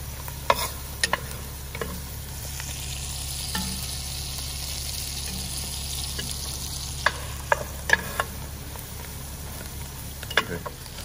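Onions brown over medium heat in a pan for a Cajun alligator sauce piquante, giving a soft, even sizzle with scattered small clicks and taps of a utensil throughout.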